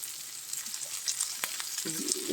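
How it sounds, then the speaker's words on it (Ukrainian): Seasoned meat, for a garlic-scape rice dish, sizzles steadily in a frying pan at a low, close level, with a soft utensil clink partway through as the pieces are turned. "перевертаємо на інший, гарно засмажується вже в нас м'яско"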